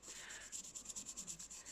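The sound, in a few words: sanding Milliput putty smooth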